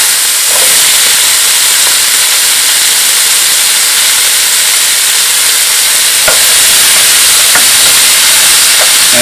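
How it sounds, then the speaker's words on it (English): Onions going into a pan with browned, caramelized meat for Irish stew, giving a loud, steady frying hiss and sizzle that fills the whole stretch, with a few faint clicks and no speech. "we're going to put the onions in."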